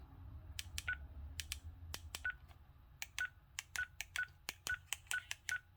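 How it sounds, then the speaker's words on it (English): Beeps from key presses on a Radioddity GD-88 DMR handheld radio, about a dozen short electronic tones at an irregular pace, each with a faint click, near and alone over low background hum. "whenever you press a key, it'll make a noise"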